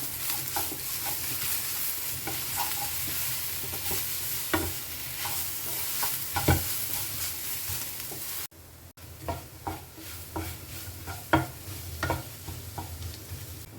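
Spiny gourd (kakrol) is stirred while frying in a pan, with irregular scraping strokes over a steady close sizzle and no talk.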